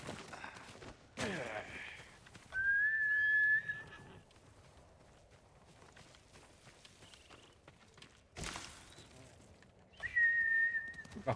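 In the samurai video game Ghost of Tsushima, a horse gives two shrill whinnies several seconds apart, with soft hoof clatter and a few sharp game sounds between them in an otherwise quiet scene.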